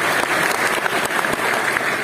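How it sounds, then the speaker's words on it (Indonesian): A crowd at a university campus event at UGM, Gajah Mada, applauds with thick continuous clapping, loud and even from start to finish, with no talking heard. "boleh tepuk tangan buat Gajah Mada"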